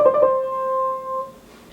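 A Bach-style ornament: a quick ascending trio of notes rising from the lower neighbor into the main note, which then rings as a clear sustained pitch before fading, played alone.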